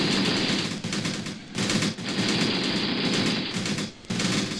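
Sustained machine-gun and rifle fire in the Graviteam Tactics war game, set in a jungle battle of Operation Hooper, rattling loud and near almost without pause, with brief gaps around two and four seconds.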